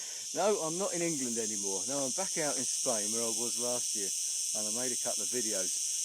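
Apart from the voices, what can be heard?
cicadas chirping loudly on a hillside in Spain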